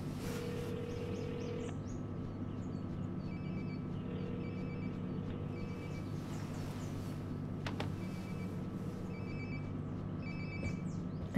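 A cell phone rings inside the video game Life is Strange: Before the Storm, its short electronic trills repeating in a few spaced bursts, faint and somewhat distant over a steady low hum.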